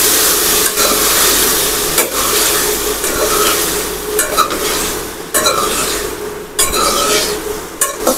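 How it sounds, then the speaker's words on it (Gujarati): A spatula stirs vegetables with asafoetida and curry leaves in a hot pan, for a dhaba-style dish. The sizzle is close and loud, broken by repeated scrapes and knocks against the pan at uneven intervals. "હવે તેને આપણે સારી રીતે મિક્સ કરી લઈશું."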